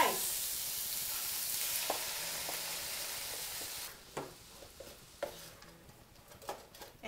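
Cooked rice is tipped into a hot pan with shrimp for low-calorie fried rice, setting off a steady loud sizzle, then scraping stirs and clinks of a spatula against the pan as it is tossed.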